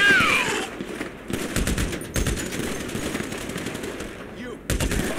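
Automatic gunfire rattles in repeated bursts during a GTA 5 money truck heist, loud and close with brief gaps between volleys, while voices shout over the shooting.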